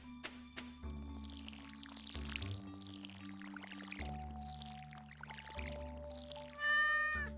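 A cat in Stardew Valley meows several times over soft, steady background game music, with a louder cry near the end and no talking.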